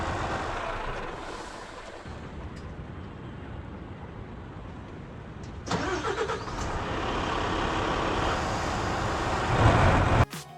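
Truck engine starting up in the Truckers of Europe 3 driving game, a rising mechanical crank at mid-clip that settles into a steady, fairly loud engine hum, with no talk.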